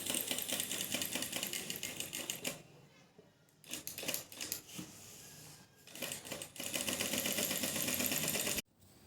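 A sewing machine stitches around cutwork on fabric, with bursts of rapid, close mechanical clatter broken by short pauses and slower runs as the stitching turns.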